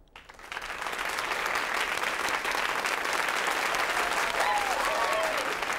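A cartoon audience's applause swells in quickly and then holds as steady, dense clapping. A few faint voices and whoops rise near the end.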